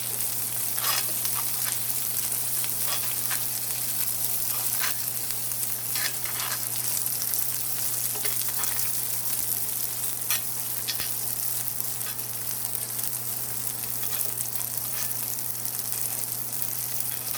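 A New York steak sizzling in a pan while basted with butter, a dense, steady crackling sizzle with spattering pops and a low steady hum beneath, continuous and close, no voices.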